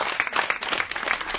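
A studio audience at the French radio station RFM applauds a singer, a short burst of close, brisk clapping with uneven individual claps standing out.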